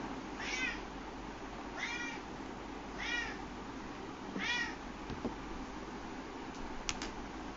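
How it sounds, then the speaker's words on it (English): A house cat meowing indoors beside someone painting with watercolours, four clear, evenly spaced meows over a steady background hum, then a few faint ticks and taps, with no talk. "So you'll see a lot of meowing."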